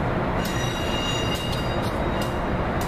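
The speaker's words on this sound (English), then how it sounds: "907 is towing a 3-car train." A train rolls past on the rails at 30th Street, a loud steady rumble with metallic squeals and faint wheel clicks.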